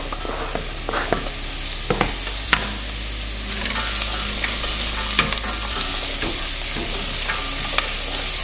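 Carrots tumble into a hot pot of butternut squash soup base seasoned with black pepper, then stir and sizzle steadily, with scattered sharp clinks and scrapes of the spoon against the pot.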